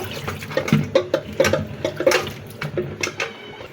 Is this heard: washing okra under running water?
yes